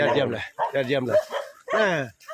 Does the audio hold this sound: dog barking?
yes